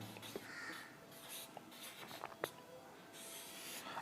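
A marker or chalk scratches across a classroom board during a Hindi grammar lesson, soft intermittent strokes and short scrapes at close range, fairly quiet, with no talking.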